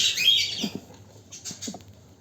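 Pet birds chirp from inside a nest box: a few short, high, thin peeps at close range, separated by quiet gaps.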